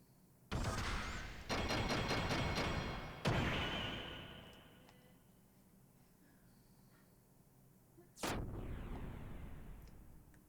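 A giant laser attack blasts in the role-playing game Xenogears, two bursts of harsh crackling energy about eight seconds apart with a fading roar between them.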